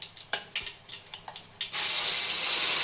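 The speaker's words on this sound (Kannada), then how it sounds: "ಈ ಕಾರದ ಎಣ್ಣೆಗೆ ಈ ರುಬ್ಕೊಂಬಂದಂಥ ಪೇಸ್ಟ್ ಹಾಕಿಬಿಡೋಣ್ರಿ ಫ್ರೆಂಡ್ಸ್" Ground spinach paste for a village-style palak paneer hits hot spiced oil and bursts into a loud, steady sizzle, after a run of clinks and scraping stirs in the pan.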